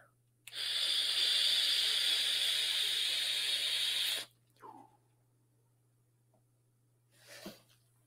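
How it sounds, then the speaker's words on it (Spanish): A Uwell Aeglos P1 pod mod, fired at 60 watts with the airflow opened, gives a loud, steady vapor hiss for about four seconds, followed by a short exhale and then quiet breathing. "Vamos a abrirla aquí para que vean la producción de vapor de esta resistencia"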